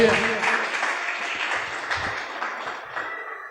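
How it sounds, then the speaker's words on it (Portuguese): A church congregation applauds during a sermon, a steady patter of clapping from many hands, moderately loud at first and slowly fading, with voices mixed in. "Você pode aplaudir o Senhor?"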